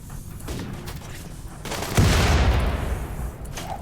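Grenade blasts and gunfire crackle through a RimWorld battle, with sharp distant shots building to a louder explosive burst midway that rumbles on, mixed with faint background sounds.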